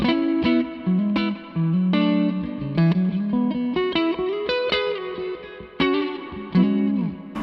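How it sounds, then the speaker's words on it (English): Electric guitar through a Zander Circuitry Exosphere reverb pedal with the reverb darkened, a melodic line of plucked notes and chords close up, soft dark reverb trailing behind, no voices. "when you darken up a reverb, it sits really nicely behind what you're playing instead of becoming a big feature of your sound"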